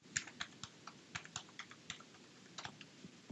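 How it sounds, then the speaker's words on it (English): Quiet, close typing on a computer keyboard as a Wi-Fi password is entered, a quick irregular run of individual key clicks with no talking. "Choose this from the drop-down and type in the password."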